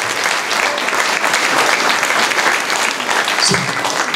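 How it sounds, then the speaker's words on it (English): Steady, dense applause from a seminar audience, sustained at even loudness for the whole stretch with no talk over it. "I would like you to applaud some of the really incredible people that you're sitting next to"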